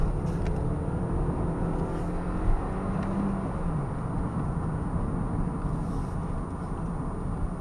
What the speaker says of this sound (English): That's the first time I put it round a corner at full throttle, second gear, no scrabbling whatsoever.